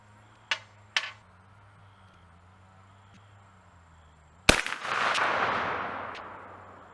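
A .44 Magnum revolver fired as a brush cartridge: two sharp, close reports early on, then after a pause a louder blast whose roar decays slowly over a couple of seconds, outdoors with a low hum beneath.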